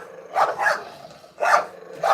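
A dog barks in three loud, close bursts spaced about a second apart, each a short cluster of rough barks, with no talk over them.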